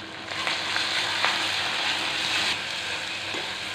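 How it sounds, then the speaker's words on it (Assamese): Onion paste frying in a pan for a mustard fish curry, a steady loud sizzle and crackle of oil that continues evenly throughout with no voices. "পিঁয়াজ বাটাখিনি দি পিঁয়াজখিনি মই এতিয়া অলপ সময় ভাজি ল'ম"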